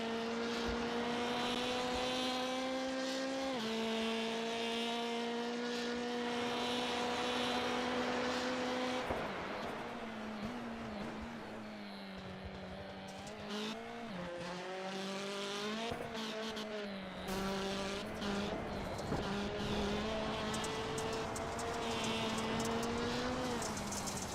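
Rallycross Lites race car lapping the Brands Hatch circuit, its engine revving and shifting through gears with rising and falling pitch, tires squealing through corners, loud and continuous without talk.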